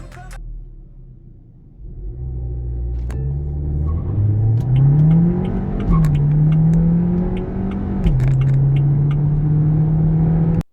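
A 2024 Haval Jolion Pro 1.5T accelerates hard from a launch. The engine note climbs through rising revs with brief dips at gear shifts, loud and close, after quiet idle at the start.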